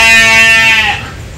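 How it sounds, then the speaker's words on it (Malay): A goat on a farm gives one loud, close bleat that wavers and trails off within about a second, with no other sound around it. "Oh kambing."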